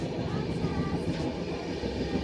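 A long-distance passenger train runs at speed past Shoranur toward Ernakulam, a constant loud rumble of wheels and carriage noise heard from inside, with no voices.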